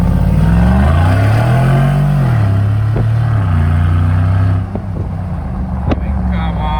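A deep V8 exhaust from a 2020 Mercedes G800 Brabus rises and falls in a rev, settling into a rumbling idle punctuated by a few sharp pops and burbles, close and loud.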